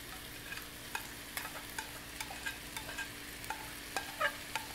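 Onions go into a pan of browning sausage, producing a faint, steady sizzle broken by light scraping and stirring clicks, with no talking.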